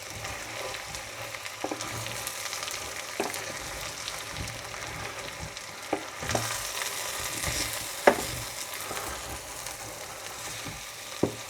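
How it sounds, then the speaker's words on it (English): Corned beef hash sizzles steadily in a frying pan while a utensil periodically scrapes and turns it. Soft thuds and clacks recur every second or two over the constant frying hiss, with no talking. "So now it's time to stir it a little bit."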